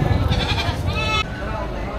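An Anglo-Nubian goat bleats at a livestock market, with a few wavering cries near the start and middle under loud crowd chatter and nearby talking.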